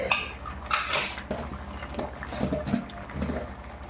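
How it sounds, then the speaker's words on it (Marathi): Coconut and coriander paste going into a cooking pan, heard as close clinks and scrapes of a utensil against metal, steady and moderately loud, with a low background hum. "आता हे वाटण टाकू आपण खोबऱ्याचं ना कोथमिरीचं"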